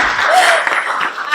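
At a library's Women's History Month celebration, an audience claps briefly, a dense burst of applause that fills the room for about a second, with some voices mixed in.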